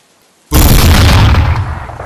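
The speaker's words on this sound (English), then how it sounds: "A hidden explosive charge detonated 50 yards away." Hidden explosive charge detonating at an abandoned warehouse, a sudden loud boom that bursts out of near silence and rolls on as a heavy, rumbling roar, fading only slightly over two seconds.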